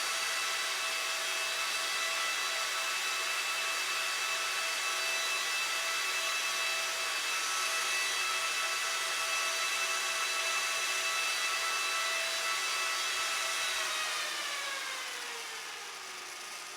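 A Fujitsu SPARC Enterprise M4000 server's fans roar loudly with a steady, droning whine, then begin winding down and dropping in pitch near the end.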